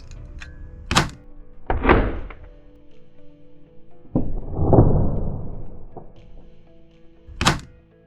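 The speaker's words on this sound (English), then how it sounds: "to arm the pin fuse, you simply pull the pin out and drop the grenade" Meteorite airsoft grenade with a pin fuse, dropped and detonating: a series of sharp, loud thunks and bangs, followed by a longer rumbling burst and another crisp bang, close by with no talking.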